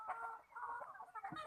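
A cross-bred country chicken clucks in a short series of nasal, close calls on a farm, moderately faint with some background noise.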